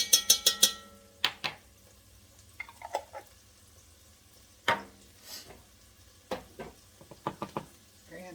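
Garlic hits a hot pan for a red beans and rice dish and is stirred, giving a few sharp scraping clatters and sputters over a faint sizzle, close up and without speech.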